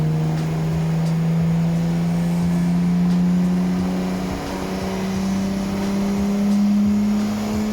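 A Nissan Skyline R33 GTST engine on a dyno holds a loud, steady, droning high rev for several seconds, with slight swells in pitch and no talking over it.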